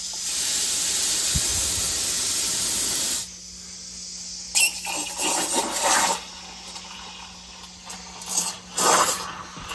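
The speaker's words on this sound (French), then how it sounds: "Là, je vais faire mousser mon lait." Steam wand on a Bellmann stovetop espresso maker frothing milk: a loud continuous hiss of purging steam for about three seconds, then softer, uneven gurgling and bursts of hiss as the wand works through the milk.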